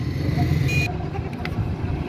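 Roadside traffic near a livestock stand where goats wait for transport, with a steady low rumble of passing cars and motorcycles and a brief horn-like tone, people talking faintly in the background.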